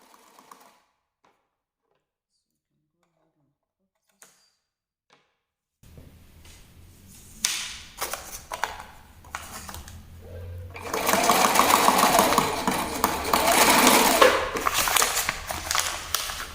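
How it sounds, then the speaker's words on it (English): Sewing machine stitching the second side of a Bubu kaftan gown, starting after a stretch of near silence with short bursts, then running steadily and loudly for several seconds with a rapid, continuous mechanical whir. "And then we sew the other side."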